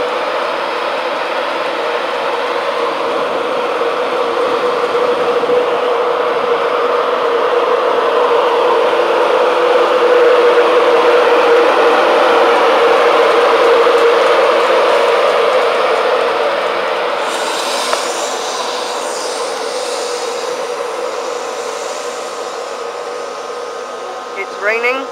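A Virgin Trains East Coast class 91 electric train pulling out of Newark North Gate station on a rainy day, a loud sustained whirring engine drone that swells and then eases as it departs.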